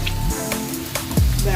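Onion hitting a hot frying pan while cooking chicken feet with Sprite, a steady dense sizzle throughout, loud and close, with a brief tonal sweep near the end.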